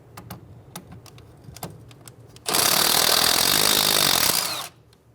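A power ratchet or impact tool spins a 12mm socket to remove the brake line bracket bolt on the rear strut of a 2007-2011 Toyota Camry, a loud steady burst of about two seconds following a few light clicks and taps nearby.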